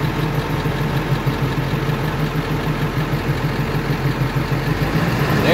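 A 1999 Ford F450 crane truck's engine idles with a steady, close, low rumble that holds an even, unbroken drone throughout, with no voices.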